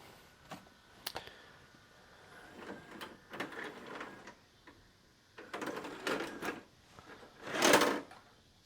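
A '90s hi-fi cassette tape deck runs through its eject sequence: scattered mechanical clicks and clunks, a whirring motor passage, and a louder final clunk as the door opens, all close and without speech.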